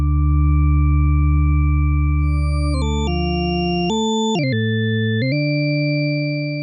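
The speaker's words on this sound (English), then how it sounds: "I was messing around with only having a few of those sine waves active at a given time." Organ-like tones from a Eurorack synthesizer, a few stacked sine waves sustaining loudly and shifting pitch in stepped jumps, with a deep low note dropping out midway.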